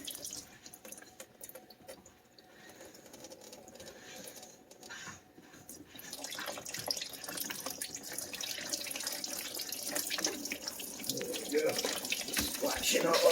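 Coolant draining from the opened expansion tank of a VW Golf Alltrack during a water pump replacement, splashing steadily; the hiss of liquid grows louder and fuller partway through and continues to the end.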